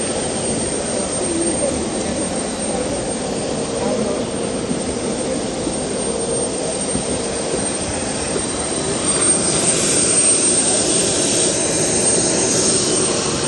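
Jet airliner engines roar steadily at an airport, a broad continuous whine and rumble that swells slightly toward the end, with people talking faintly in the background.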